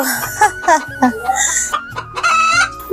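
A cartoon chicken clucks in a rapid run of squawky, clucking calls, loud and close, with brief pauses between bursts.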